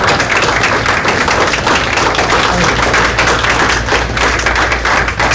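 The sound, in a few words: applause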